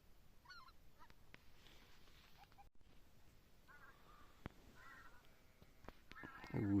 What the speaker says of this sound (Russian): Гусь пошел.